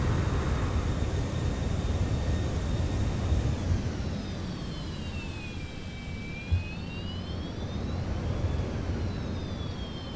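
Thrust reversers on a Citation X business jet after landing in Microsoft Flight Simulator 2024: a steady, loud jet-engine roar with a whining tone that sweeps down and back up, holding for the full stretch.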